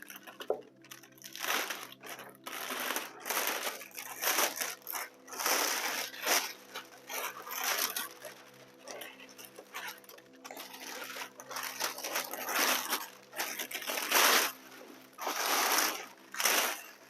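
A plastic bag from a tote bag's box crinkles and rustles in repeated bursts, loud and close, as it is handled and scrunched over a long stretch.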